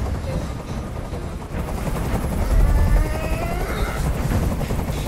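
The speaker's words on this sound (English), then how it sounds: "Tell that helicopter to get out of here." In the game Detroit: Become Human, a helicopter hovers overhead with a constant loud rotor thumping and engine drone, while voices talk beneath it.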